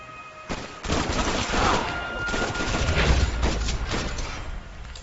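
Rapid gunfire from a shootout in the video game Max Payne 3, with dense overlapping bursts of shots continuing loud for several seconds after a brief quiet start.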